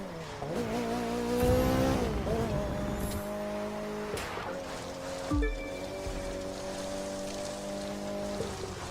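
A first-generation Mazda MX-5 Miata races in The Crew 2 on a street course, its engine droning steadily with rising and falling revs, gear shifts, and brief tire scrub and bumps, loud and continuous throughout.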